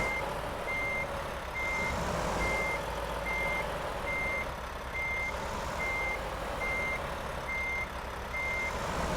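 Truck reversing beeps in American Truck Simulator, backing up a trailer in Los Angeles: a steady, evenly spaced electronic beep repeats over a continuous engine rumble, with no talking.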